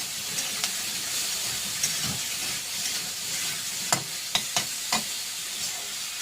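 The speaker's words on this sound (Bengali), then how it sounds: "ভেন্ডি দিয়ে ভালো করে মশলা যাতে মেশানো হয়, খেতে ভালো লাগে, ভালো করে নাড়াচাড়া করে" Sliced okra stir-fried with tomato and spices in a pan: a low, steady hiss of frying with occasional sharp clacks and scrapes of a spatula turning the vegetables.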